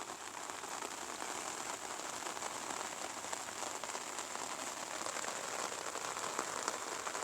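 Rain pours evenly over flooded rice fields, a soft unbroken wash of countless drops with scattered crisp spatters, quiet and uniform from start to finish.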